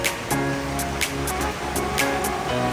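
Creek water flowing steadily nearby in a mountain canyon, a continuous rushing wash with small splashy surges at regular intervals.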